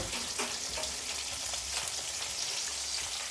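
Eggplant pieces for vankaya bajji cook in a hot pan, giving a steady close sizzle with faint crackles throughout and no voices.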